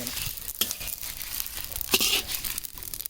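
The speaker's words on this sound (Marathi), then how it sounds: "मसाला भाजून घेतोय गरम मसाला म्हणतात" Garam masala spices dry-roasted and stirred in a pan, a soft dry rustling and scraping with a few louder scrapes of the spoon, close and fairly quiet.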